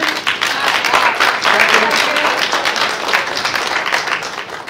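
Applause from an audience at a business meeting: dense, steady clapping from many hands that holds at a fairly loud level throughout and fades slightly toward the end.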